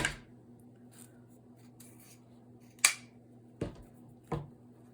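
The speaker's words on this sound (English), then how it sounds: "And I'm going to clip that off with my scissors." Scissors clip through ribbon while decorating a deco mesh wreath, with three sharp, close snips in the second half of a quiet stretch.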